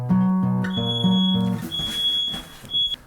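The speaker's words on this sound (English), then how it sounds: "Left something on the stove and the smoke detector was going off." A smoke detector shrills in a home kitchen after food was left on the stove, sounding in loud repeated high beeps with a steady tone, alone without talk.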